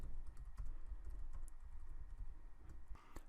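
Steady typing on a computer keyboard while writing a social media post, with quick irregular key clicks running throughout at close range and no talk.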